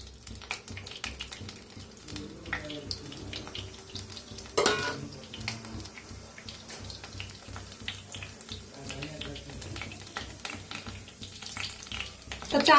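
Cumin, cinnamon, cloves and black pepper dropped into hot oil, giving a steady crackling sizzle with stirring and utensil clinks throughout, plus a sharper burst partway through.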